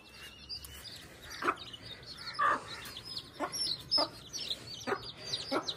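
Chickens cluck in short repeated calls at moderate distance, several birds sounding over a quiet background.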